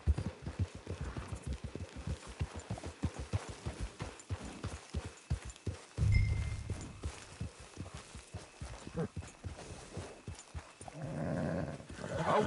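In Red Dead Redemption 2 Online, steady hoofbeats of a horse clip-clop at a walking pace, close by, with a low rumble and some ambient noise partway through.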